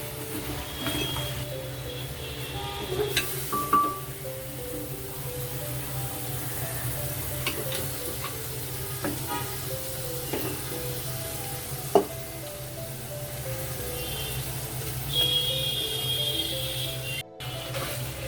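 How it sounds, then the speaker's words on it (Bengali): Meat being poured into a pressure cooker on a stove gives a steady, continuous sizzle with scattered stirring clatters and a few sharp clinks, close and moderately loud, with no talking. "এবারে হাঁড়ির মাংসটা আমি প্রেসার কুকারের মধ্যে ঢেলে দেব।"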